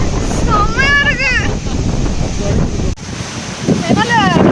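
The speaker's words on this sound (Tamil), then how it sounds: "எவ்வளவு ஃபாஸ்டா இருக்கு பாருங்க. தண்ணி ஸ்பீடா வருது." Loud, steady rushing roar of water at Agayagangai Falls in the Kolli Hills, close to the microphone with wind buffeting, while people talk and exclaim over it.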